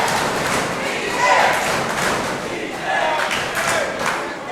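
A wrestling crowd roars and cheers for champion Bryan Keith during a New Texas Pro Championship match against Stephen Wolf, a broad, continuous swell of voices that rises and falls in waves with a few dull thuds.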